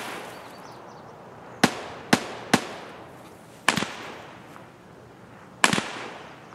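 Scattered sharp gunshots in Escape From Tarkov, five distinct cracks at irregular intervals over a low background hiss.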